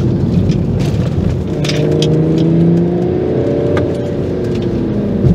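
A BMW 335d diesel engine revs loudly from inside the car, its pitch rising and falling in smooth sweeps over a steady road rumble.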